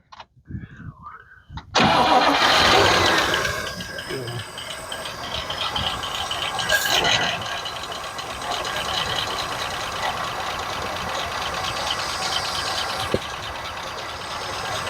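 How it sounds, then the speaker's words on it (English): A drag car's engine cranks and fires, running on its carburetor, then keeps idling loudly and roughly with a ticking character for the rest of the clip, with people talking over it. "go ahead and fire it up"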